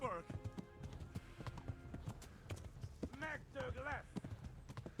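A horse in the video game Kingdom Come Deliverance gallops with rapid, rhythmic clip-clop hoofbeats at close range, joined by a brief whinny while a person talks over it.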